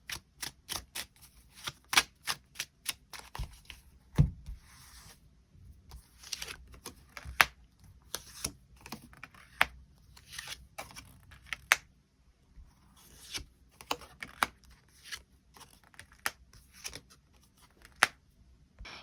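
Tarot cards being shuffled and drawn, giving irregular bursts of crisp card flicks and riffles with quiet gaps between them, close and fairly soft, with no voice.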